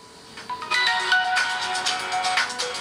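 A bright electronic ringtone melody plays loudly and continuously, with repeating tonal notes close by.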